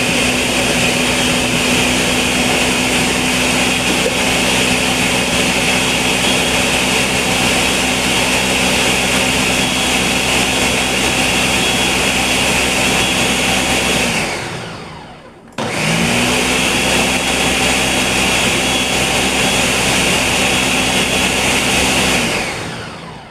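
A blender whirring through Jamaican-style fruit juice in two long loud runs with a steady high whine, the first about fifteen seconds, then a brief stop before the motor spins back up for several more seconds.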